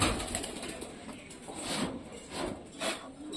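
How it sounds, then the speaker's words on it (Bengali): Several pigeons take off with quick bursts of flapping wings, fairly faint, against quiet background. "পায়রা তো সব চলে গেল ওই চালের উপরে"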